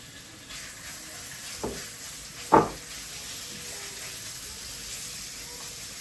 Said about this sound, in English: Right, so meat first. Get that browned off.